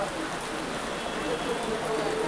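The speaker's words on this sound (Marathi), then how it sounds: "तर आता बघतोय तर बघा अचानक पाऊस आलेला आहे" Steady hiss of rain falling on surfaces, dense and even throughout, moderately loud with no pauses.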